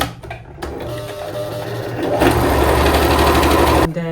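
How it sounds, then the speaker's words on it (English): A sewing machine top stitching a circle dress runs close and loud, whirring steadily and picking up speed partway through before stopping abruptly. "I'll take it to my sewing machine so you can see what I'm doing."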